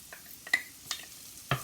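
Garlic dropped into a pan ahead of a butter garlic shrimp dish, with a faint soft sizzle and a few short clicks and scrapes of stirring, quiet and close, no voices.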